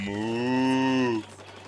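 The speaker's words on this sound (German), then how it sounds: "Warum verfolgt uns immer eine Kuh, ey?" A single long cow moo in the video game Splatoon 2, a loud, close, steady lowing call lasting about a second before cutting off.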